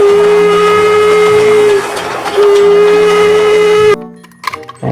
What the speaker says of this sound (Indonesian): Yang ini lokomotif kereta api teman-teman.